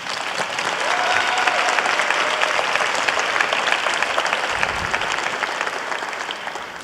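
Sustained audience applause fills a school board meeting honoring high school students and their families, a steady clapping that holds for about seven seconds before easing slightly.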